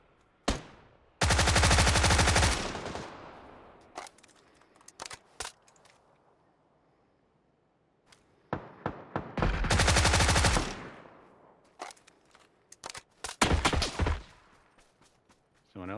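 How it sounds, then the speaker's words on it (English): Several long bursts of automatic fire from a suppressed Tommy gun in PUBG, spaced between single sharp shots and quieter gaps, some close and loud, others more distant. "Someone else shooting at me."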